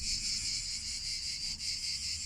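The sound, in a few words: crickets chirping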